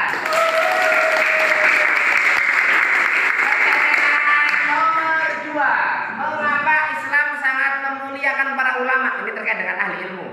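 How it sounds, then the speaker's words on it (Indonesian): A classroom audience applauds a student, Bang Aska, at the end of a presentation. Loud, dense clapping fills the first half, then gives way to voices and tonal sounds as the clapping fades. "Tepuk tangan buat Bang Aska"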